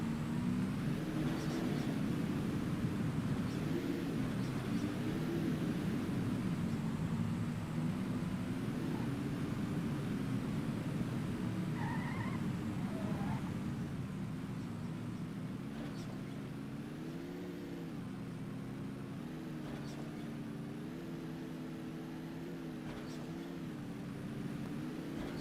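In a flight combat video game, a Spitfire's piston engine drones steadily with a buzzing, wavering hum that shifts pitch as the plane maneuvers, moderately loud throughout.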